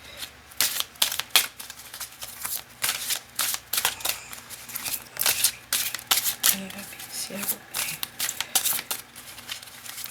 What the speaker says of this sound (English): can I get like a clean shuffle